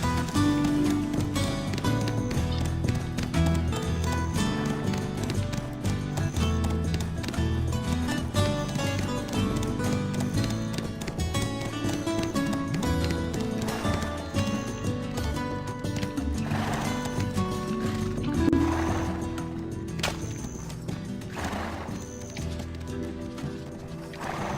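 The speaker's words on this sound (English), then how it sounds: "my horse must be really fatigued. It's fighting with me. And it refuses to even run." A horse in Black Desert Online struggles and refuses to run, fatigued, with steady clip-clop hooves, snorts and whinnies close up over a continuous bed of game music lasting the whole stretch.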